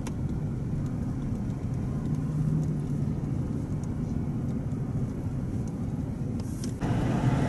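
A car rolls along the road on the way to a Target store, a steady low engine and tyre rumble holding even and fairly loud throughout, with a brief dip near the end.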